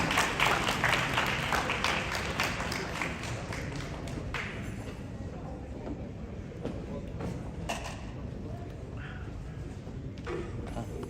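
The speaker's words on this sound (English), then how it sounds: "And a round of applause to get them excited to get here on stage." Crowd applause at an outdoor Phagwah Holi celebration in Queens, New York, loudest at first and then thinning into scattered claps and crowd noise.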